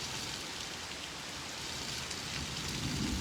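A small decorative indoor waterfall runs continuously, a faint steady hiss and patter of falling water with no voices over it.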